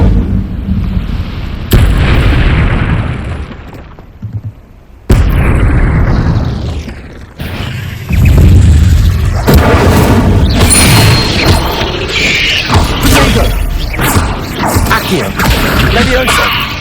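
Incendio fire spells erupting in combat in Hogwarts Legacy, a string of loud booming bursts and crackling blasts separated by brief gaps, layered with game effects.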